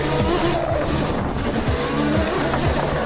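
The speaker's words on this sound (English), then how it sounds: "I'm really trying to push it through that drift" A 5000W electric go-kart drifts with sweeping, whining motor tones rising and falling alongside rough tire scrubbing, loud and continuous for a few seconds, with no talking.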